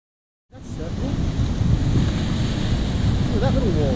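Ocean surf off Eleuthera in the Bahamas washes and roars steadily after a sudden start, with heavy wind buffeting the microphone on a boat and a voice faintly in the background.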